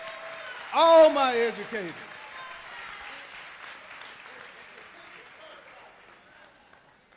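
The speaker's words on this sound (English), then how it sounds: "let's give them a round of applause" Brief burst of audience applause for educators standing at a Georgia governor's campaign event in Warner, loud for about a second amid a speaker's raised voice, then fading into a quieter room murmur.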